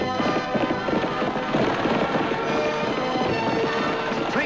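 Horse hooves pounding at hard riding speed, a dense, continuous galloping clatter that stays loud and busy throughout, with other activity mixed in and no clear voices.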